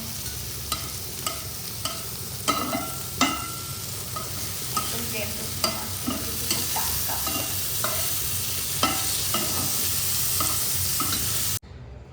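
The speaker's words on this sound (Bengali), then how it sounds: "মাছগুলো একদম কম তেলে ভাজা হচ্ছে" Fish sizzling steadily in a little oil, a continuous crackling hiss with scattered pops and clinks from stirring, no voices.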